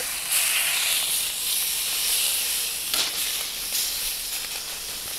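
Skirt steak sizzles on a Pit Boss griddle with butter, a steady close broadband hiss holding throughout with a few brief louder bursts, and no voice over it.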